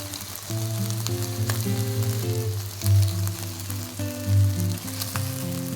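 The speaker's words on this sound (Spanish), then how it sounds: "damos la vuelta a cada pieza para que se sigan dorando por otros 5 minutos" Chicken pieces sizzle and brown steadily in hot oil for a Peruvian home-style lunch, a close, continuous crackling frying sound with soft music playing underneath and no talking.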